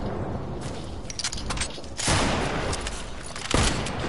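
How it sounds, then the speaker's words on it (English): Semi-automatic rifle fire in a video game comes in rapid repeated shots, loud and close, with sharper bursts standing out among the steady barrage. "You're just, you know, spamming a semi."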